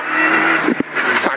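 Renault Clio RC5 rally car racing flat out on a rally stage, a loud close engine note holding steady with brief gear-change dips and a short tyre scrub.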